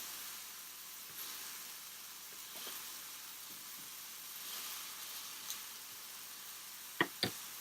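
Thin smash burger patties fry on a hot surface, giving a soft, steady sizzling hiss throughout, with a few faint taps and two sharp clicks near the end.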